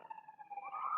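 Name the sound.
siren passing by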